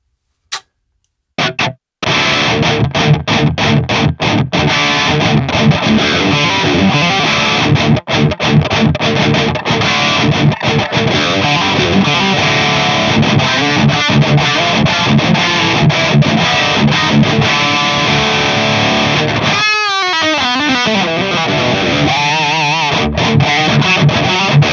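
An electric guitar played through the crunch channel of a Peavey Triple XXX tube amp, loud and close with driven, distorted chords and riffs after a few opening hits, and a brief sweeping effect near the end.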